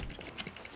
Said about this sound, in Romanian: Cred că așa sună tastatura